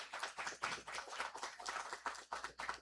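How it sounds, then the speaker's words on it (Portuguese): Audience applause at a literary festival, a moderate crowd clapping steadily with a fluttering, uneven rhythm throughout, heard alone without speech. "Salva de palmas para ela"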